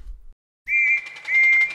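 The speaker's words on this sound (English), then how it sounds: "Then, he heard a whistle he had never heard before." A steam engine's whistle sounds in a storybook railway scene at a station, a single sustained tone held for over a second with a slight dip midway, loud and clear after a brief silence.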